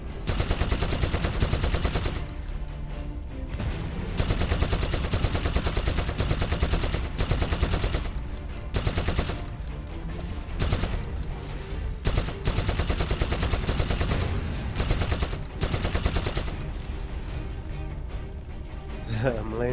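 Sustained automatic weapon fire in the online shooter Warhammer Eternal Crusade, long dense bursts broken by brief gaps, loud and close, with a player's voice talking over the shooting.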